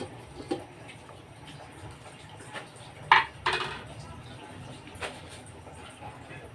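A lid set back on a cooking pot of mami noodle soup, a few sharp metallic clanks around the middle, then lighter taps against a quiet kitchen background.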